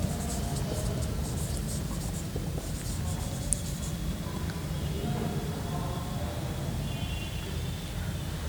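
A steady scratching of chalk or marker writing out a sentence on a board runs continuously, fairly close, beneath a teacher's spoken explanation.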